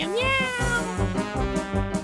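Cats meow close by on Tashirojima, Cat Island in Japan: one rising, drawn-out meow followed by several shorter overlapping cries in quick succession.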